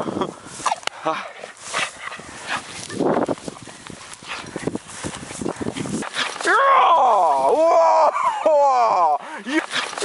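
A Bull Terrier whimpers and yelps in a rising, wavering series of high whines, close by on a walk, after a stretch of people talking.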